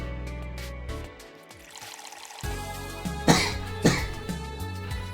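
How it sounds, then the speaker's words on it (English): A person coughs a few times, sharp bursts close by, over game music and soft liquid trickling sounds. "Pardon me, coughing."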